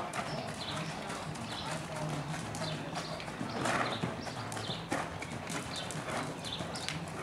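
Hoofbeats of a Rocky Mountain Horse gaiting in a training session, a steady quick rhythm of hoof strikes running the whole time over a busy, noisy outdoor background.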